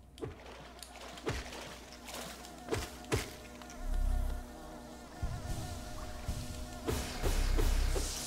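Insect buzzing drifts through the Hive area of the Hollow Knight video game, a steady droning hum with sharp clicks and low rumbling swells scattered across it.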